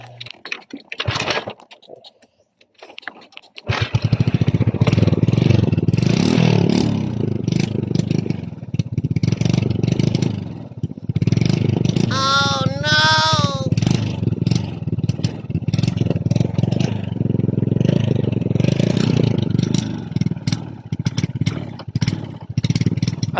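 A Kymco Visar 110 motorcycle with a sputtering engine that struggles to rev is started after a few quiet seconds, then runs close and loud with uneven, choppy revving and clattery mechanical noise throughout.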